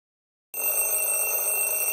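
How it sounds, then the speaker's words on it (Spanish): A phone ringtone in a Roblox game starts abruptly after a moment of silence, a bright electronic ringing tone sounding loud and steady on its own. "Odio mi tono de llamada."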